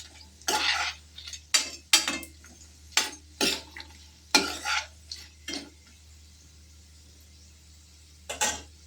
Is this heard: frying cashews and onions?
yes